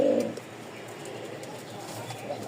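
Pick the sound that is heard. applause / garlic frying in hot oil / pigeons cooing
pigeons cooing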